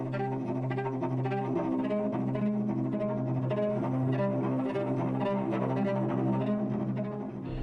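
Music from the game Detroit: Become Human, a continuous layered piece with steady sustained low tones beneath shifting melodic notes and soft rhythmic texture, full and even throughout with no talking.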